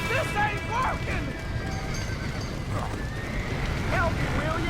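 Several horses whinny and neigh in shrill, rising calls in Red Dead Redemption, over a constant rumble of commotion and clopping, with voices shouting in the background.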